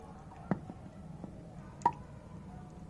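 Water dripping from a soaked succulent pot after a full watering, heard as two or three soft, close drops plopping at irregular intervals over a quiet background.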